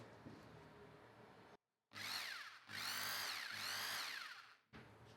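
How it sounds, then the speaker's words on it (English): A Bosch GBH 220 rotary hammer running in hammer mode, heard as a close, loud buzzing whine that stops briefly, restarts and surges in two long pulses, then cuts out and starts again. "I'm turning to"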